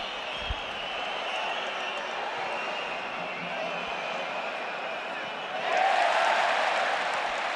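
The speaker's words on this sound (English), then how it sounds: "Another huge cheer as Gerard Martin wins another tackle." A stadium crowd at the 2025 Copa del Rey final between Real Madrid and Barcelona roars steadily, then swells into a louder cheer for a won tackle, with commentary talking over it.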